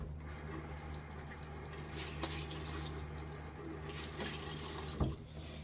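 Water from a running tap splashed onto a bearded face before a shave, a quiet continuous trickle with a few soft splashes, faint and close in a small room.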